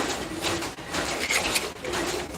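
A pair of domestic pigeons in a loft coo softly nearby, their low repeated coos rising and falling over a faint background hiss.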